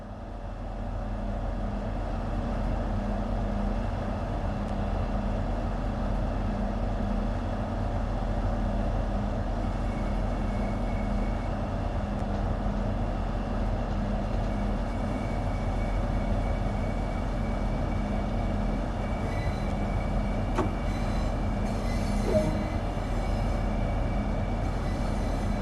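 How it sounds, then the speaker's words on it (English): Class 395 Javelin high-speed train, a six-car Hitachi unit from the Train Sim World 2 game, running with a steady low rumble and hum throughout, a faint clunk and brief higher tones near the end. "This particular train is a Class 395 Javelin built by Hitachi in Japan for European operation."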